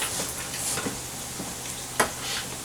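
Chicken frying in a skillet, a steady bright sizzle close up with a few stirring scrapes and one sharper clatter partway through.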